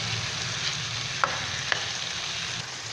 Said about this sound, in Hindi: ये देखिए ये हमारा चिकन भून रहा है।